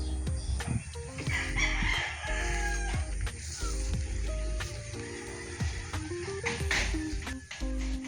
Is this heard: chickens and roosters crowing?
yes